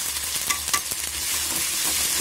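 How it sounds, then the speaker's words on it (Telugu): Onions and ginger garlic paste frying in oil for an Andhra-style boti gongura curry, a steady close sizzle broken by several light spoon scrapes and taps, with no talking. "ఆనియన్స్ వేసిన తర్వాత ఈ అల్లం వెల్లుల్లి పేస్ట్ కూడా వేస్తున్నాను"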